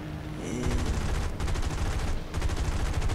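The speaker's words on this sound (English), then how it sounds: "I'm being shot at." Rapid bursts of machine-gun fire strike the player's aircraft in War Thunder, a dense rattling stream in three loud runs broken by brief gaps, close and heavy over a low engine drone.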